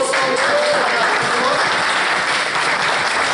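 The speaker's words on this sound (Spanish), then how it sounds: "Un buen aplauso." Audience at a tech meetup breaking into dense, sustained applause, loud and close, with a brief voice audible at the very start before the clapping fills in.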